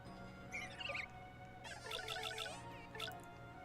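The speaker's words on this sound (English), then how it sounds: "Who is messaging me? Okay, no, that's my phone." A phone message notification chimes in a few short, bright tonal bursts, quiet and close, with faint background hum between them and no talking.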